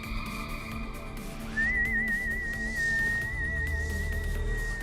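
A person whistles in the style of Yondu from Guardians of the Galaxy: a single sustained, warbling high note that swoops upward and holds steadily over a low background hum.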